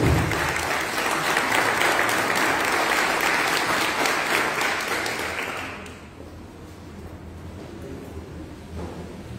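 Applause from an audience at a ceremony, many people clapping together loudly and close for about six seconds before fading out into quieter room noise.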